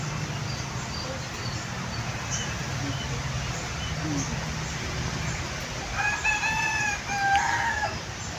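A rooster crows out in the open on a rainy day with a short, clear, fairly near call near the end. A steady wash of rain or ambient hiss runs underneath throughout.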